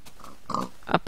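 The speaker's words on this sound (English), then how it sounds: "No, you can't come in, pig." Pig from the Minecraft video game giving a few short grunting oinks, close and fairly loud, with no talk over them.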